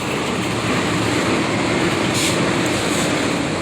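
A train running past at TBS railway station in Malaysia, a loud continuous rumble and rolling roar of rail cars going by close, with no talking.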